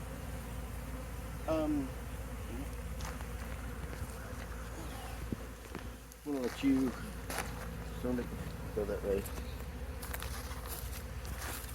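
Honey bees buzzing around a hive frame during a log hive removal, a steady drone close by under intermittent talk and handling noises.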